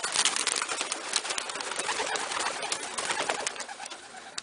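A flock of white homer pigeons released from a wire loft makes a dense, continuous rush of flapping wings and scattered coos, fairly close and busy throughout with no pauses.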